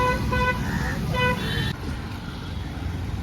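Rainy-day morning road traffic with short car horn toots in quick succession over a dense rumble of passing vehicles; the horns stop partway and the traffic noise carries on.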